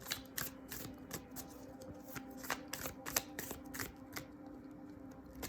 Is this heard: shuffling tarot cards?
yes